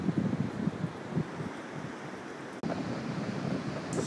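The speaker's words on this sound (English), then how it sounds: "So this is the beach along the town of Mauin, Chile" Waves wash onto the beach along the town of Mauin, Chile, a continuous surf rush with wind noise, briefly cut by a dropout midway.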